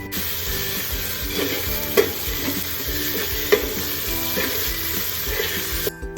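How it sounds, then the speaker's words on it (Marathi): Onion frying with ginger garlic paste in a pan, a steady close sizzle under repeated stirring scrapes and a few sharper knocks of the spoon against the pan, no one talking. "आता मी ह्याच्यात थोडीशी आलं लसूण पेस्ट ऍड करून चांगली परतून घेऊ"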